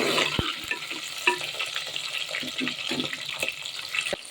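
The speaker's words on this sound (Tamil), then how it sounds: "சின்ன வெங்காயம் நல்லா வதங்கிருச்சு" Small onions and garlic sautéing in a pan for a dried-fish curry, with a low sizzle under repeated spoon-scraping stirs and occasional sharp clinks against the pan.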